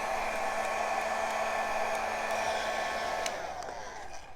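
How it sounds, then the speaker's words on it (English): A small Janeri blow dryer runs steadily at close range, a constant whooshing whir with an even motor hum that tapers slightly as it is handled near the end. "This is my little Janeri blow dryer."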